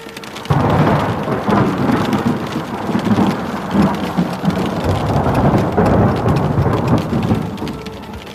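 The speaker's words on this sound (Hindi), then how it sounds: "बाहर बारिश हो रही है।" Heavy rain pours steadily while thunder rumbles through a storm outside a dark lab, a dense continuous roar with deep rolling peaks and no voices.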